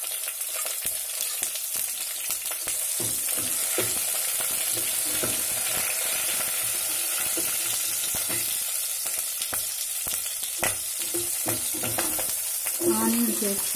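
Green chillies fry in hot tempering oil for ulava charu, a continuous close crackling sizzle with scattered pops and stirring scrapes, steady throughout with no talk.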